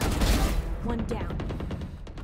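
Gunfire in the shooter game Valorant: several sharp shots crack out in quick bursts over a steady, busy game background, fairly close and loud.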